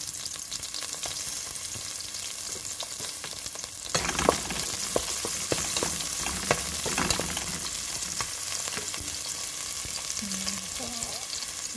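Hamour fish heads and other ingredients for a stew are stirred in a hot cooking pan, giving a steady close sizzle and frying hiss with scraping and clattering from the stirring.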